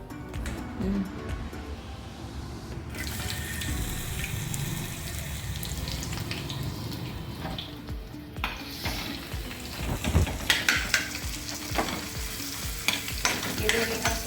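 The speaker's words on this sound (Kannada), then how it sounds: "ಸ್ವಲ್ಪ ಆಯಿಲ್ ಹೀಟಪ್ ಆದಮೇಲೆ ಇದಕ್ಕೆ ಎಲ್ಲ ತರಕಾರಿಗಳು ಹಾಕ್ತೀನಿ" Mushrooms and vegetables sizzle and fry in hot oil for a mushroom-broccoli dish, with steady crackling and stirring scrapes throughout and a few sharper clatters of the utensil near the end.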